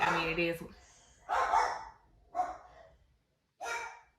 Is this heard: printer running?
no